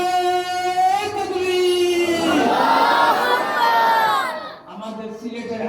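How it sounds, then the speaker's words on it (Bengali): A crowd chanting takbir together, a loud sustained swell of many voices rising and falling in unison for several seconds before fading. "মাশাআল্লাহ, একবার জুড়ে তাকবীর দিতে হবে।"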